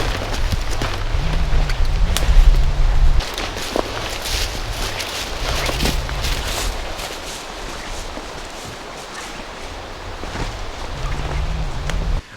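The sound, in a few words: strong wind on a hilltop, wind noise on the microphone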